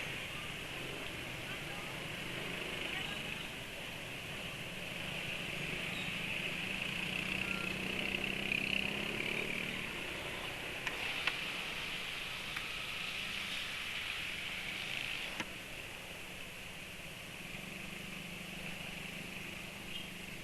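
A motorcycle engine running smoothly while hot after a fast morning ride of around 111 km/h: a steady, even mechanical hum with no knocking, holding a constant level, with faint voices under it.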